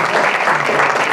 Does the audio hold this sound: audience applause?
yes